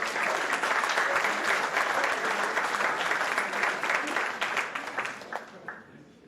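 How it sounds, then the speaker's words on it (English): Crowd at a high school athletics signing day applauds baseball signees, loud steady clapping that slowly fades toward the end, with some voices mixed in. "A big round of applause for our baseball signees"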